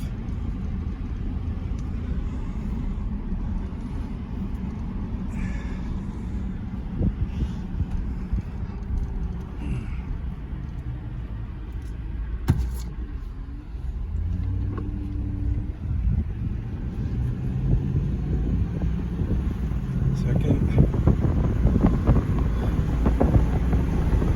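A 2015 Ram truck with a rebuilt RFE transmission drives along, engine drone rising and settling through gear changes under heavy wind buffeting at the microphone, with faint talking.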